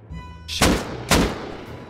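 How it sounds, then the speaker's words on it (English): Two loud gunshots in a video game match, sharp close bursts about half a second apart, each ringing off into a decaying tail. "They're shooting the twig out because they want to make sure it's safe to come outside."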